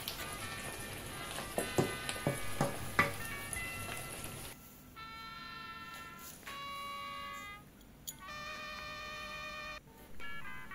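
Small ndakala fish fry in oil with a crackling sizzle and sharp pops. The sound then drops to a quieter, steady bubbling with a few brief clinks, heard up close with no talking.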